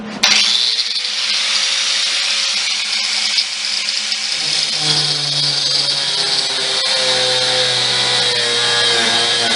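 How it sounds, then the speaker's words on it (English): A power saw cutting through a metal pole for a homemade boat fishing rod holder, a loud continuous whine that shifts pitch as the blade bites deeper, heard alone without speech. "So I'll cut it off at a little bit of an angle."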